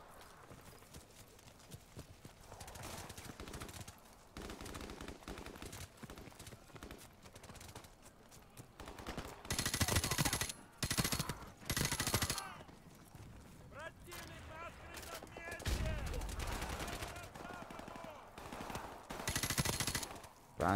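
Gunfire in Call of Duty 4: Modern Warfare Remastered, with bursts of loud automatic shots in several clusters amid game sounds and a player talking at times.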